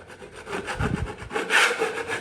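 A blade lightly shaves a nearly cured patch of filler on a wallpapered wall, making a few short, close, dry scraping strokes with no voices.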